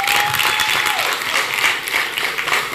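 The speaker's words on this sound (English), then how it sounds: "Can we do some more applause" Applause from an audience at an energy awards ceremony in Ghana: loud, dense, sustained clapping filling the room without pause, with a faint steady tone over it.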